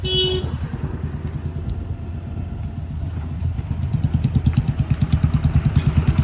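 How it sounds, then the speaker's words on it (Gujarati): A tractor engine runs steadily in a rural spot where cows and goats are grazing. It makes a low, rhythmic diesel chugging that grows louder and more pronounced toward the end, with no voices. "ટ્રેક્ટર આવી ગયું છે."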